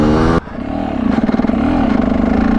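A dirt bike engine revs close by, a loud, steady throbbing drone with a pulsing tone that rises and settles after an abrupt cut at the start.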